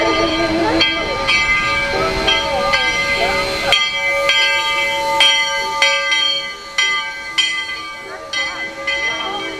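A Georgetown Loop Railroad train in Colorado pulls up on a switch near Silver Plume Station. Ringing bell-like tones repeat over a low rumble and mechanical clanks, with people talking nearby.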